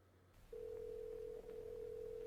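A telephone in the horror film Skinamarink sounds a steady electronic tone that starts abruptly after a quiet moment and holds, with one brief dip before it continues.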